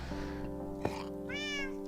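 Minecraft cats give a single clear, close meow near the end, over a steady hum of background game music.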